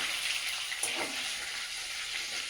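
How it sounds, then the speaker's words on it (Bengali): Spices sizzling in hot oil in a pan, a steady dense frying hiss that fills the short stretch with a brief stir or crackle near the middle, alone and without talk. "এটাও একই প্রসেসে ভেজে নিলাম"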